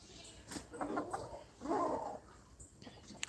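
Hens on a farm making soft, low clucking sounds in two short bursts, faint and close, with light rustling and quiet background noise.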